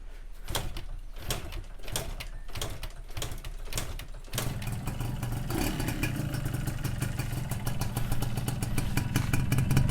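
A Honda 125Z two-stroke motorcycle is kicked and cranked with several sharp clattering strokes, then the engine catches and runs at a steady, rough idle nearby.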